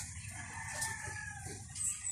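Chickens on a farm cluck and crow in a steady, low-level stream of fowl calls, with a brighter crow rising briefly near the end and no talking.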